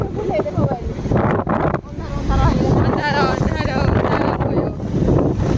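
Strong wind buffeting the microphone on a rainy night outdoors, a loud continuous rushing roar with people talking over it.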